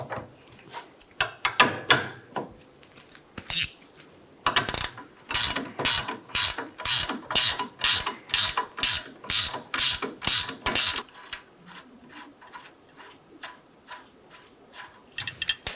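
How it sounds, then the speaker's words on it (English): Ratcheting clicks from a pair of 19mm wrenches working loose the outer nut on a 2011-2014 Hyundai Sonata rear lower control arm, a close, steady run of rapid ticks in bursts with short pauses between. "Using 2 19mm wrenches, loosen the outside nut on the control arm."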